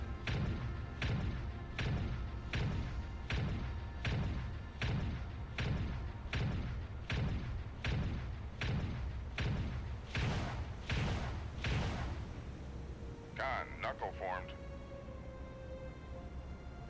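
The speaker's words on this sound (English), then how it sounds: "Let's see these cannons in action." Cruiser cannons on a Kiev-class cruiser in a modded video game fire a rapid regular volley of about fourteen heavy booming thuds, near and loud, then stop, leaving a brief electronic tone.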